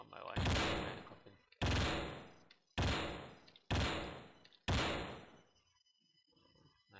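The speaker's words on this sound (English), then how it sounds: "But this machine gun is one deadly weapon." Machine gun fire in the Endless War 2 video game: five loud, separate bursts in a steady rhythm, each cutting off sharply, followed by quieter faint noises at the end.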